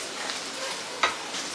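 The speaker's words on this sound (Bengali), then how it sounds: "ঢ্যাঁড়সটা শুকিয়ে যাচ্ছিল, তো ঢ্যাঁড়স ভাজা হচ্ছে" Okra fries in a pan with a steady, close, soft hiss of sizzling oil, broken by one brief sharp scrape or stir partway through, with no voices.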